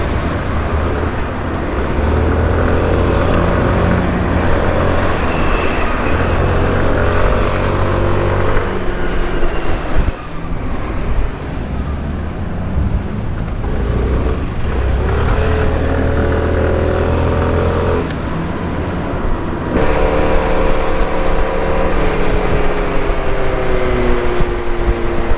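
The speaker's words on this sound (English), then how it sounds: "Traffic is the same kind of chaos and craziness." Chaotic road traffic in Yerevan, Armenia: a steady, loud wash of engines and passing vehicles with rising and falling motor tones throughout, close by and continuous.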